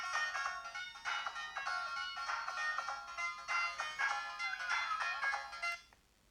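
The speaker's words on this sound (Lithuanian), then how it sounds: "Telefonas turėjo 40 balsų polifoniją ir tuo metu skambėjo fantastiškai." Polyphonic ringtone from a Samsung C100 mobile phone, a bright multi-voice electronic melody playing in repeated phrases for about six seconds, clear and alone before fading out.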